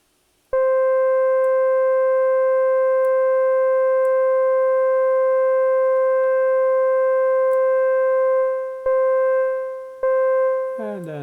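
A steady synthesized sine oscillator tone in VCV Rack holds for about ten seconds with a few small clicks, then warbles briefly as phase modulation shifts its timbre at the end.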